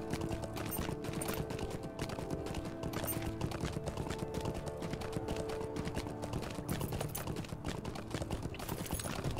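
Hooves clip-clop in a steady quick rhythm as a horse is ridden in the online game Lord of the Rings Online, close and continuous over sustained game music and ambience.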